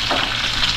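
Ingredients for dinengdeng, a Filipino vegetable dish, frying in hot oil, a close, steady crackling sizzle with faint stirring, heard alone.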